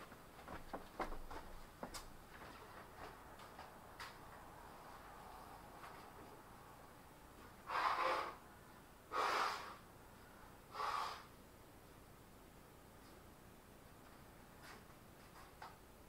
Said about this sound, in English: Can I take a second to blow my nose